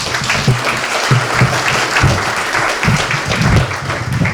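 A room full of people at a youth summit applauds loudly and continuously, the dense clapping steady from start to finish with no talk over it.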